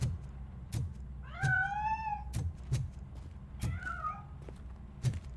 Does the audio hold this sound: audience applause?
no